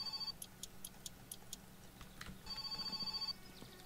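A telephone rings in the My Summer Car video game: two bursts of rapid bell-like trilling, one short at the start and a longer one near the end, with faint ticks between and no talking.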